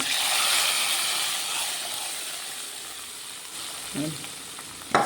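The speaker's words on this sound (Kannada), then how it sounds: "ನಮ್ಮ ಸಾರಿಗೆ ಒಗ್ಗರಣೆ ಹಾಕೋಣಲ್ವಾ" Tempering spices for a mixed vegetable saaru sizzle loudly in hot oil, a bright steady hiss that slowly eases, followed by a couple of brief clanks near the end.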